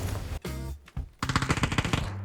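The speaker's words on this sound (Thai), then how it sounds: "โดนครับโดน ใครยิงก็ไม่รู้" Gunfire in the battle royale shooter PUBG: a short burst, a gap, then a longer rapid automatic volley of loud, dense shots.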